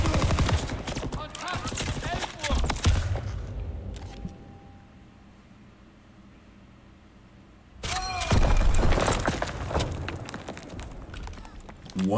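Machine gun fire in a World War 2 shooter game: dense, loud rattling bursts at the start, a quieter lull in the middle, then heavy automatic fire returning near the end.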